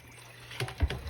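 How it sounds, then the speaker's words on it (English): Pieces of goat meat being rinsed in water for Jamaican curry goat: a quiet background, then a couple of close, brief sloshing splashes near the end. "You want to rinse your goat as many times as possible"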